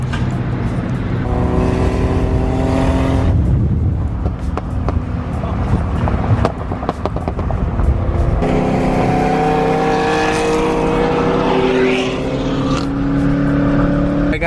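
Loud cars rev their engines hard at a packed car meet during a 2-step rev battle, with rising and falling engine roars, popping bursts and several revs overlapping up close, while people shout and talk.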